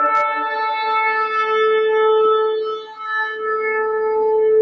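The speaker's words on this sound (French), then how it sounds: "c'est un son de trompette" A trumpet plays one long, loud, sustained note with a rich set of overtones and a slight wavering in pitch, holding steadily for several seconds with a faint echo behind it.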